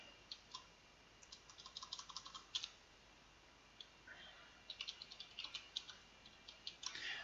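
Quiet, close typing on a computer keyboard, with irregular bursts of light clicking keystrokes and short pauses between them, and no talk over it.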